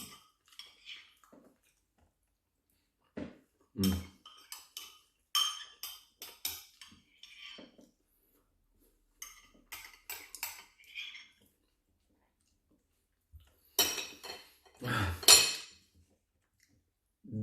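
Chopsticks and a spoon clink against dishes during a steamed fried rice meal, a few sparse taps and scrapes with quiet gaps between, and a louder cluster of clatter near the end.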